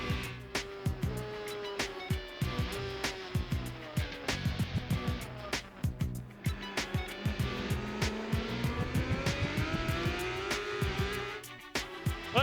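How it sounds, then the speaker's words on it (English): Superbike motorcycles race around a track at an AMA Superbike event in 2005, engines revving and whining past in rapid succession, with loud pulses and shifting pitch as they pass. "Motorcycles circulate around this racetrack."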